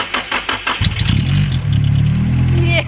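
Car engine cranking with a jump pack attached, several rhythmic starter turns followed by the engine catching and settling into a loud, steady idle close by.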